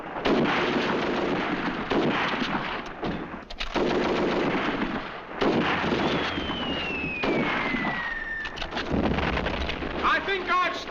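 Battle mortar and gun fire from a classic British war film pounds continuously as a dense, loud barrage of blasts and rattling shots, with a shell whistle cutting through and brief shouted voices.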